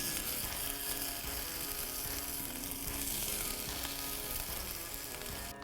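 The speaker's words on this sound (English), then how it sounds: "Those are going to go directly into the pan, and I'll saute them until they're golden and crisp." Potato gnocchi sauteing in a pan over an outdoor campfire give a loud, steady, dense sizzle that fills the whole stretch without pause, cut off sharply at the end, with no voices.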